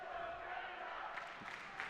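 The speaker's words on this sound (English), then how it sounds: "this crowd is fired up" A fired-up arena crowd at the Dodgeball World Championships mixed foam gold medal final between Canada and Malaysia cheers and roars in a steady, dense wash, with a few louder shouts rising near the end.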